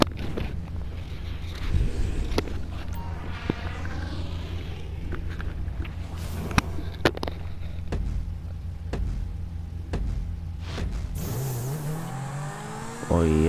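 A Zentorno supercar in GTA 5 races with its engine droning and revving steadily, rising and falling in pitch, a sharp surge near the end, with no talk over it.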